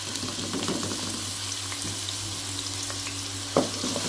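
Four medium chopped onions frying in a pan for Hyderabadi chicken masala, a constant near sizzle with light stirring and a single clunk toward the end, no voices present.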